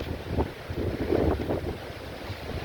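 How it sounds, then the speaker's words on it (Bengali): Sea breeze blows across the microphone at Colva beach in Goa, a steady low rumbling gust with soft swells and no voices, moderately loud throughout. "হাওয়া তো অসাধারণ হাওয়া হাওয়া অসাধারণ লাগছে"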